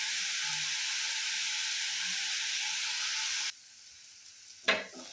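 Chopped tomatoes sauté in a pan for a tomato chutney, giving a steady broadband sizzle that runs loud and even, then drops away abruptly, followed by a brief scrape or stir near the end.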